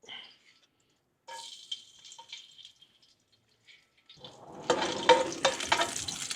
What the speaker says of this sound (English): heat up the wok, put some oil in it, just a little bit. Put some garlic on it.